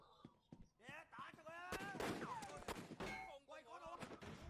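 Sharp gunshot bursts from the video game Sleeping Dogs crack repeatedly in quick succession, some overlapping, with someone talking excitedly over them.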